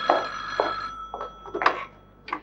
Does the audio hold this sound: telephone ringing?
yes